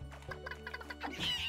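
Chicken clucks in the video game Secrets of Grindea, a quick run of short clipped cackles over a low steady game-music hum, ending in a louder squawk.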